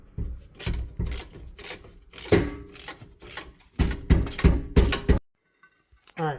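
A hand ratchet loosening 14mm rear brake caliper bolts on a Subaru, repeated bursts of rapid clicking strokes in an uneven rhythm, close and loud, ending in a short pause and a faint clatter.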